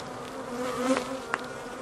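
Honeybees buzz steadily as they return with pollen to a hobby beekeeper's hive in the evening, a dense, continuous hum with a couple of louder close passes.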